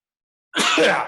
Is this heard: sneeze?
yes